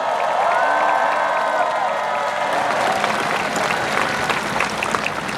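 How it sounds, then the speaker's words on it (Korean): A large crowd of about 7,000 at a presidential candidate's rally in Sejong applauds loudly and continuously, with cheers and shouts rising over the dense clapping throughout. "여러분, 박수 부탁드립니다."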